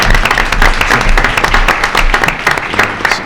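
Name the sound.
applause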